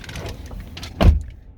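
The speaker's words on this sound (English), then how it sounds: "Power folding side mirrors." The power folding side mirrors on a 2015 Chevrolet Tahoe LT give a brief close motor whir that ends in a soft thunk as they settle.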